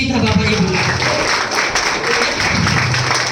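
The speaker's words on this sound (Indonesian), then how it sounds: "Tepuk tangan buat bos kita Bapak Ibu." A group of listeners claps together for their boss, a brisk burst of applause running under a speaking voice through the whole moment.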